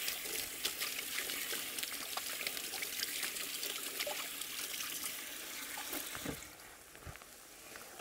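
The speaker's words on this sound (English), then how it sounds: "I'm gonna wash my hand." Hands are washed under a running kitchen tap, a steady close splash of water that softens and thins toward the end.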